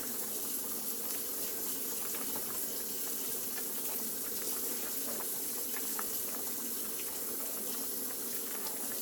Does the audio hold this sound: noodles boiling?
yes